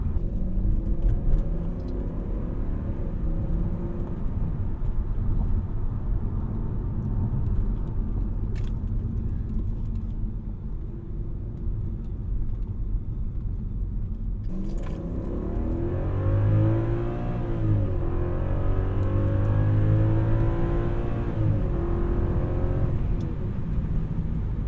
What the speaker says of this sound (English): Oh, that engine feels really athletic when you get it all revved up.